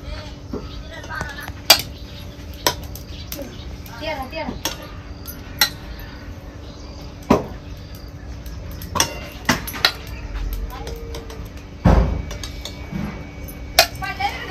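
Boiled potatoes lifted one at a time into a metal pot for village-style vada pav make scattered clinks and knocks of utensils against the vessel, near and moderately loud, with talking over the kitchen clatter.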